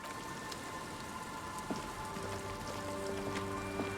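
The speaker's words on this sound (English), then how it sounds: "It's getting late, and it's raining." Rain falls steadily and evenly on a surface, a dense constant patter with a few nearer drips, and a low tonal hum sits faintly underneath.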